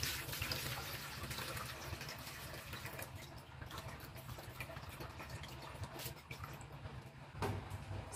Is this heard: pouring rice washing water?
yes